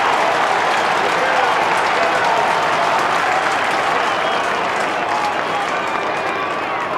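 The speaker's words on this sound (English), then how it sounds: "And you listen to the Hawthorn crowd here." The Hawthorn crowd at a 1994 Australian football match against West Coast roars and applauds in a loud, unbroken swell of cheering and clapping from a packed stadium, with a commentator talking over it.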